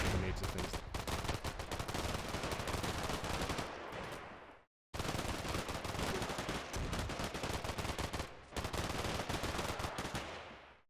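Firefight in the war game Combat Mission: Black Sea, sustained loud machine-gun and rifle fire in rapid overlapping bursts, broken by a brief silent cut midway and a short lull near the end.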